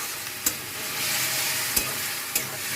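A ground paste of black pepper, garlic, ginger and green chilli stir-fries for a potato fry, a dense continuous sizzle close by, punctuated by three crisp spatula knocks on the pan.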